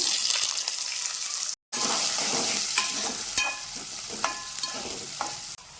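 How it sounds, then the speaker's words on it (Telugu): Chopped onions frying in a pan with crushed dried red chilies while cooking a dal of ponnaganti greens, carrot and moong dal, a close, continuous sizzle with sharp stirring scrapes and one brief dropout. "ఉల్లిపాయ వేగిపోయిందండి"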